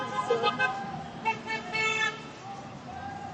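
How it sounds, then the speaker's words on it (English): Car horns honked by passing supporters on a street in Uptown Minneapolis, several short toots and longer honks overlapping with passing traffic and voices nearby. "honking"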